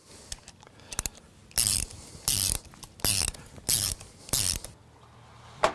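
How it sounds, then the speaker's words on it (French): Fittings are screwed in by hand while an aluminium sliding gate is installed, giving a series of five or six close, rhythmic ratcheting bursts with short gaps between them and no talk. "il suffit de visser"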